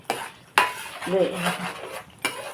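A spoon stirs ginger-garlic paste and masala in a pan for a grass carp fish curry, scraping and clinking sharply three times, with a soft sizzle in between.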